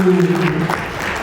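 A seated audience claps at a panel debate on architecture and interior design in Raipur, a short burst of applause with a voice briefly heard over it.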